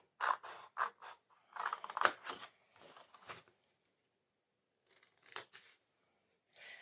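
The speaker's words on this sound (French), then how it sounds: "on va venir couper au ciseau proprement toutes les parties qu'on a enlevées" Scissors snip through folded paper in quick bursts of crisp cuts, close and fairly quiet, with short pauses between runs of snipping.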